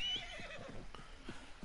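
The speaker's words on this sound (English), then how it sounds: "Come on, you damn horse." A horse in the video game Red Dead Redemption II gives a short, close neigh, followed by a few soft hoof clops.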